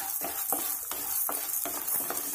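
Chana dal, urad dal and coriander seeds are sautéed in a pan, with a soft, rhythmic scrape of a spoon stirring the lentils roughly every third of a second over a faint background hiss.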